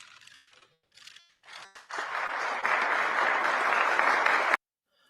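Applause at a deal-signing ceremony: scattered claps swell into a loud, dense burst of clapping from a crowd, sustained for a few seconds before stopping abruptly.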